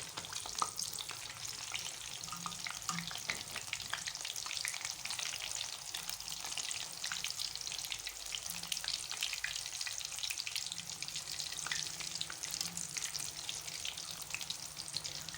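Potato chips fry in hot oil in a pan with a steady, dense crackle and sizzle that runs evenly throughout, close up and with no talking.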